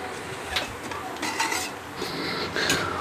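Potato filling for batata vada is roasted in a pan with a spoon stirring and scraping steadily, giving repeated metallic clinks over a light sizzle close by.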